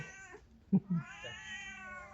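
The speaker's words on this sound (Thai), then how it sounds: "แมวเยอะครับหลวงพี่" Several cats meow at a temple by a campsite on the way up to a tent ground, two short close calls standing out with fainter mewing and a longer drawn-out meow after them, and nobody talking.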